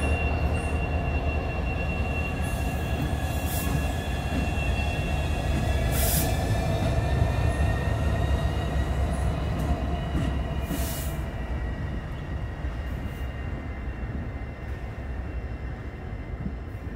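A Norfolk Southern SD70ACC heritage locomotive hauls a train past at steady volume, with continuous rail rumble, clattering cars and high, drawn-out wheel squeals over the roar for the whole stretch.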